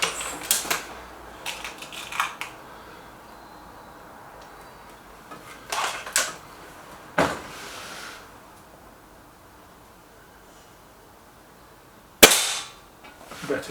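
A BSA Lightning SE and a Gamo Whisper X air rifle fire in turn, each shot a sharp close crack followed by brief mechanical clicks, spaced several seconds apart with one louder report near the end.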